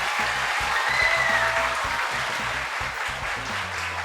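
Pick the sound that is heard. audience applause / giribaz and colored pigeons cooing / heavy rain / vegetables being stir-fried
audience applause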